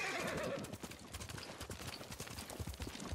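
Horses set off at a gallop in the video game Ghost of Tsushima, loud close hoofbeats drumming in a quick, uneven rhythm, with a whinny near the start and a rush of motion.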